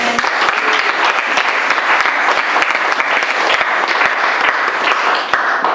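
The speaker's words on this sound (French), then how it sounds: "Acclamons la parole" A church congregation breaks into loud, sustained applause, with dense clapping close up and even throughout, the crowd's hands filling the room.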